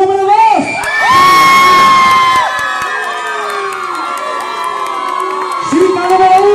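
A party crowd erupts in loud cheering, whoops and high shouts during a nighttime contest, sustained for several seconds and swelling again at the end, with scattered voices mixed in.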